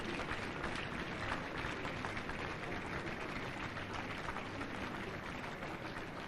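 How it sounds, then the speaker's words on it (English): A large seated audience at an outdoor state anniversary ceremony claps in a dense, steady roar of applause that runs without a break from start to finish, with no voices rising above it. "Clap for them, clap for them,"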